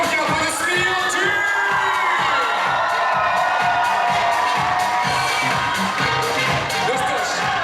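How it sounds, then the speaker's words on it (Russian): A university Miss and Mister pageant audience at an awards ceremony erupts in loud, sustained cheering, with whoops and shouts over constant crowd noise. "Друзья, ваши громкие аплодисменты!"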